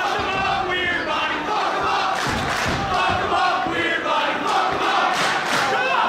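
Wrestling crowd at an independent show, loud roaring cheers and scattered shouts swelling in bursts over a continuous din of many voices.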